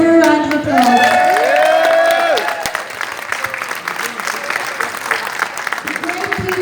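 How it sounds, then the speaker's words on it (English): Crowd applause and cheering at an outdoor Google demonstration on Barrow Street in Dublin, rising over a voice and then holding as a steady, fairly loud wash of clapping with scattered shouts. "Give her a round of applause."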